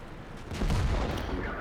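A tank gun fires an APCR shell in a video game, a booming blast with rumbling battle noise and distant gunfire layered underneath.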